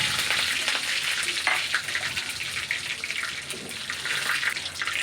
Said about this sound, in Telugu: కరివేపాకు కూడా వేసి బాగా ఫ్రై చేసుకోవాలి